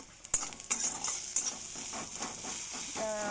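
Food fries gently in a pan over a low flame, a soft steady sizzle with a few light utensil clicks and stirring scrapes, quiet and close.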